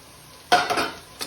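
A spoon scrapes and stirs chopped tomatoes into vegetable pulao in a pan, giving a short, close scraping swish followed by a softer clink, with no talking.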